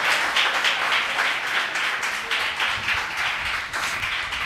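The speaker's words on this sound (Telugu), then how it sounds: "గట్టిగా చప్పట్లు కొడుతుంది" A church congregation claps loudly during a temple dedication service, with many hands beating a steady, rhythmic pattern that stays strong throughout.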